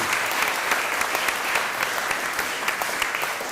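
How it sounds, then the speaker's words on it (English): A U3A meeting audience gives a speaker a further round of applause, steady dense clapping from many hands filling the room without a break. "may I just ask of a further round of applause for David?"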